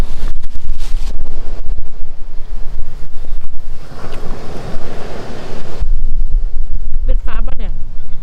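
Strong wind gusting at a seashore, roaring and buffeting the microphone continuously with surf noise underneath, loud throughout with a brief lull near the middle.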